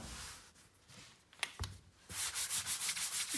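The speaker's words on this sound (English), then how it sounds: "I'm going to rub as much flour off as I can" Hands rub flour off the surface of croissant pastry dough, giving soft dry scuffing strokes that turn into a steady run of rhythmic brushing passes, close and fairly quiet, with no talk.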